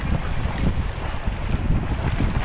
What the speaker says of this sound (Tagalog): maalon ang panahon ngayon dito. Mahangin kasi.